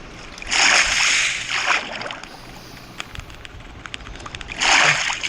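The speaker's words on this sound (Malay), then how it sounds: "Aduh tu jatuh dalam air." A video game character plunges into water on a dinosaur island at night, giving a loud splashing burst, then quieter sloshing, and a second splash near the end.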